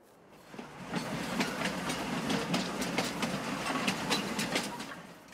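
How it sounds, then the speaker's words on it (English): A train rumbles past in a farming video game set in France, a rising clattering roar with rhythmic clickety-clack wheel beats, loud through the middle and easing off at the end. "Wow, that train is very noisy."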